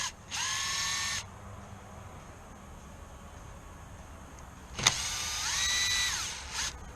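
A power driver backs out 3 mm bolts from a Waydoo Flyer ONE propeller and rear fin post, with two whining bursts of about a second each, the second preceded by a sharp click, and a quiet gap between them.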